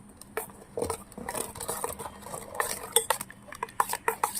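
A metal spoon stirs chopped onions into yogurt in a bowl for a yogurt chutney. It gives a quick run of close scraping clinks and soft wet patters that keep coming throughout, with no talk over them.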